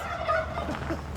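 Free-range turkeys gobble at a mountaintop market in Ghana, a short close burst of warbling fowl calls over low background noise.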